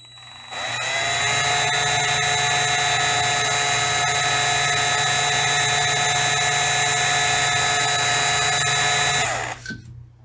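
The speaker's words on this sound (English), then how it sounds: "we're just going to take the same drill bit, same size, 1/16, and lightly go down in it" A power drill with a 1/16 bit bores lightly into a rivet post on a 1974 Hot Wheels Flying Customs Heavy Chevy die-cast car, a steady high whine running close and loud for about nine seconds before spinning down.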